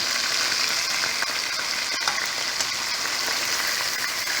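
Steamed fish sizzling and frying steadily in a pan after being flipped, a dense continuous crackle close up with no talk.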